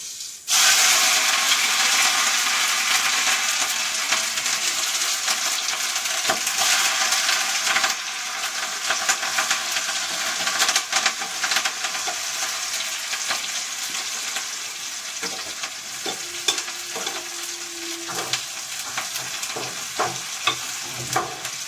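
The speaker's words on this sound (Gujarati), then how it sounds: "હવે આપણે આમાં આદુ લસણનું પેસ્ટ ને મરચાં નાખવાના છે તો નાખી દઈએ" Ginger garlic paste and chillies hit hot oil with a sudden loud sizzle that settles into a steady hiss, later joined by clinks and scrapes of stirring.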